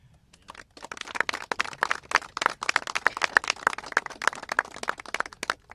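Applause at a congressional press event, beginning with a few isolated claps that quickly build into steady, moderately loud clapping from a modest crowd, carrying on to the end.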